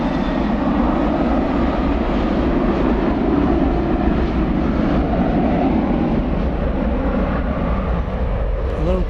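A Frontier Airlines Airbus A320 arrives at DFW Airport at night, its jet engines making a steady, loud broadband roar that holds for the whole stretch.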